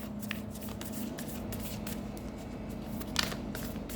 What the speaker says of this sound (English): Let me pull out one more card.